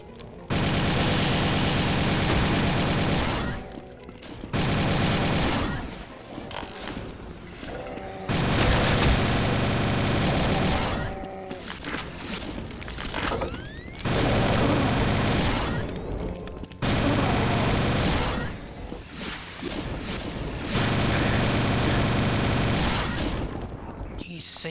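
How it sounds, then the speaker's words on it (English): Plasma gun firing in the video game Doom 2, loud sustained bursts of rapid energy shots in long stretches broken by short gaps, with game explosions and a voice talking over the action. "Time to retreat. Yeah, plasma gun time."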